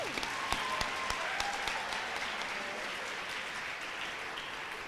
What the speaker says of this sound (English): So let's give them a round of applause real quick.